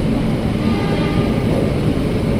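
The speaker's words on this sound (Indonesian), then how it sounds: "Kereta api Manahan jalur 3 dari Gambir tujuan Solo Balapan bersama CC 203 tadi ya." Manahan passenger train of eight stainless steel executive cars and one priority car, hauled by a CC 203 locomotive, passing on track 3 at Jatinegara Station; steady, loud continuous rumble and rolling noise throughout, no talk.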